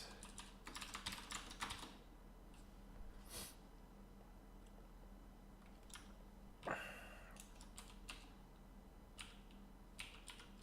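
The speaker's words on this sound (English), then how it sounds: "I know I'm going to type this a lot" Keys clatter on a computer keyboard in quick bursts separated by pauses, faint and close. A sniff or snort breaks in once partway through.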